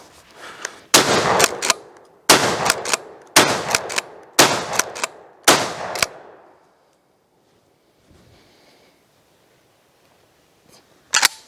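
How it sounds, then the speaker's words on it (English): Five loud shotgun blasts from a Real McCoy PAS 12 pump shotgun firing high brass shells, evenly spaced about a second apart with pump racking between, followed by near silence and one last faint click-clack at the end. "I thought we'd try some high brass."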